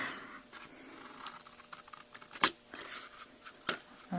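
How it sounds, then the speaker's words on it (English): Scissors cutting away corner squares from paper for a chocolate-colored box: close, quiet snips and crisp paper rustles in an irregular series, with two sharper clicks. "on one side, we are going to cut away those corners there"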